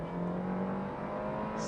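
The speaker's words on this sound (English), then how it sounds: "the 4-cylinder turbocharged engine in the X4 is surprisingly good" The 4-cylinder turbocharged engine of a 2018 BMW X4 hums steadily under acceleration, heard from inside the cabin as a continuous, moderately loud drone with a faint rising tone.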